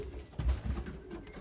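Belgian racing pigeons coo in a loft, a couple of soft, low, throaty calls close by against a quiet background.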